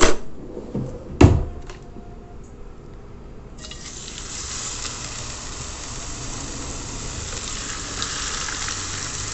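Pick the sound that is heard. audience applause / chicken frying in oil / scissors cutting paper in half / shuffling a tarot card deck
chicken frying in oil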